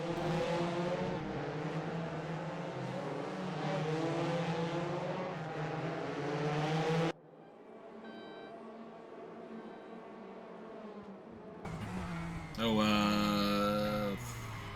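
Race cars roaring around the Daytona Road Course in a sim racing game, dense engine drone with revving and gear changes, a quieter passage, then a loud close car screaming past.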